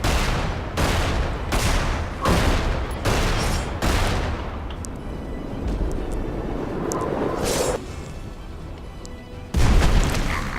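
Rapid bursts of gunfire in the game Magicka boom repeatedly in quick succession, loud and close, with heavy low-end thumps and a rumbling background.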